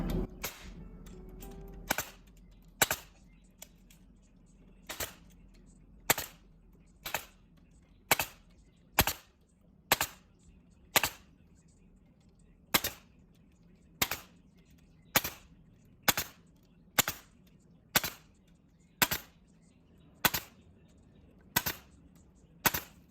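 Beehive frames being stapled in a wooden frame jig: sharp, isolated staple-gun snaps firing at a steady, roughly one-per-second rhythm, loud and close against a quiet background.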